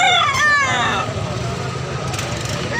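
A Gabiara Gold gamefowl rooster crows once near the start, a loud rising-then-falling call that fades into background hum and distant noise.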